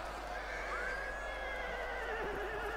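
Horses in the video game Total War Rome 2 give a sustained, rising-then-level whinny over a busy battle background, with faint hoof clatter and speech.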